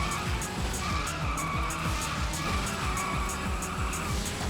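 Racing car engine and skidding in the video game Fast Beat Loop Racer GT: a loud continuous engine drone under rapid repeated tire screeches, with no talk.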